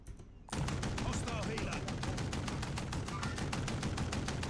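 Rapid, continuous automatic gunfire in the battle-royale video game Warzone, a dense fast rhythm of loud close shots starting abruptly after a brief quiet moment and sustained throughout, with faint voices underneath.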